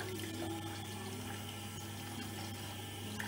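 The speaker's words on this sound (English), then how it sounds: "So I turn the tap on." Warm water runs steadily from a kitchen tap, a continuous close rushing hiss that holds at the same level throughout with no talking over it.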